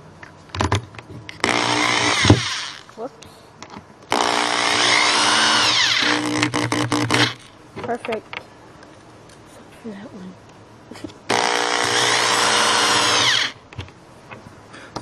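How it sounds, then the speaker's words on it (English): A power drill bores holes in plastic sheeting for a homemade hovercraft, three loud sustained whining bursts of a few seconds each, separated by pauses with handling clatter and occasional speech. "So we're drilling holes in the plastic sheeting now for the air to escape underneath the hovercraft"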